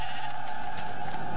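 A sheep bleats in the Minecraft video game, a single continuous nasal bleat lasting over a second, loud and close with no talk over it.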